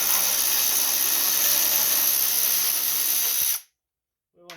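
A power tool whirs continuously for several seconds while removing 8mm bolts on a John Deere LA145 riding lawn mower, then cuts off abruptly and leaves near silence.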